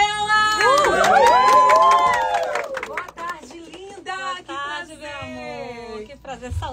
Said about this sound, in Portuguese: Vamos aplaudir nossa Joelma!